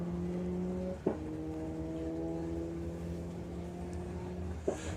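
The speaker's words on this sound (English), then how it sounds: "I'm loving the noise this car makes." Drag racing car engine at a Doorslammers event holding a steady, droning idle-like tone, with two brief sharp pops breaking the hum.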